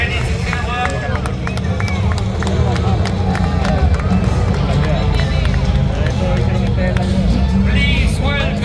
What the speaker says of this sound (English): Please welcome, big applause for the Expo for Rallye Team.